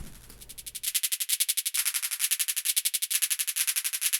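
A SPECDRUM drum sampler rapidly retriggers a bright, clicky sample in a fast machine-gun-like stutter, each hit at a randomly chosen pitch held for several repeats, loud and continuous.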